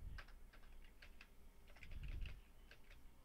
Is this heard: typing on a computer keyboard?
yes